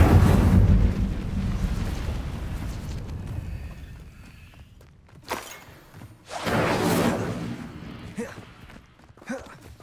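Incendio fire spell cast in the video game Hogwarts Legacy, a heavy fiery whoosh and roaring burst that decays, followed by further whooshing blasts of spell effects.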